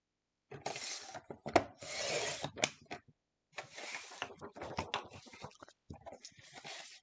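A paper trimmer slices a sheet for scrapbooking with long, rasping blade strokes, two extended passes followed by shorter scraping pulls, close and fairly quiet between pauses.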